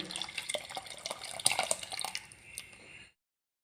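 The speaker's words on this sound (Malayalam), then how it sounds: "നമ്മളിതിലേക്ക് പുളിവെള്ളം ഒഴിക്കുവാണ്" Tamarind water, squeezed from soaked tamarind, is poured into a bowl for a Kerala puli curry, making a close, splashing trickle that runs about three seconds and then stops.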